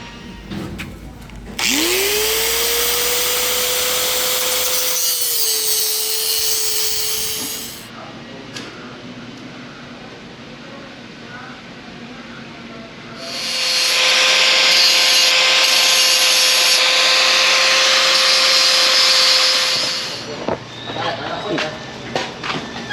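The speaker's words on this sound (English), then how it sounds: "Okay, it's enough grinding." A metal part being ground at a workbench with a power tool, two long loud whining bursts with a steady tone, separated by a quieter pause as the motor spins down, all close by.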